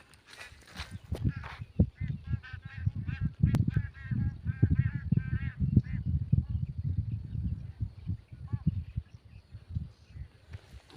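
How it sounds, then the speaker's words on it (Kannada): A flock of migrant geese feeding in a chickpea crop field keeps up a dense chorus of overlapping honks, loud and continuous, with rustling and footsteps beneath. "ಕಲಿ ಹೊಲ ಹಾಳು ಮಾಡ್ತಿರುವ ಹಕ್ಕಿಗಳು."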